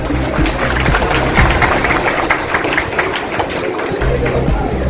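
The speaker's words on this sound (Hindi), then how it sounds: "एक बार जोरदार ताली बजाओ।" Crowd at a minister's welcome rally in Kasba, Katihar-Purnia region, claps and cheers continuously, a dense loud wash of applause with voices mixed in throughout.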